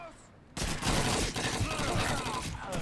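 Gunfire in the World War II shooter Call of Duty 2, a sudden, loud, continuous fusillade of rifle and machine gun shots that bursts in after a quiet start and keeps going at close range.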